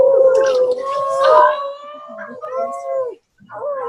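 Children imitating a dog howl together, a loud chorus of long, rising and wavering voiced howls that break into shorter uneven calls and trail off.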